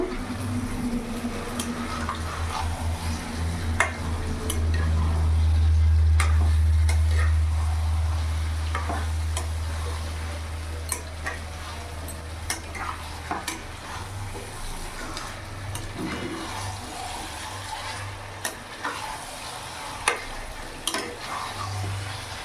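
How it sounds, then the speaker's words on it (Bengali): Hyderabadi green chicken being stirred and mixed in a pan, with a steady sizzle under repeated close scraping and clattering strokes of a spoon, and a low rumble from the stove running throughout. "ভালো করে নাড়াচাড়া করে মিশিয়ে নিয়েছি"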